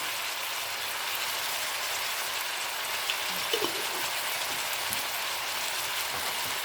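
Beef and broccoli fry in a pan with a constant, even sizzle like steady rain, close and unbroken throughout, with a couple of faint clinks near the middle.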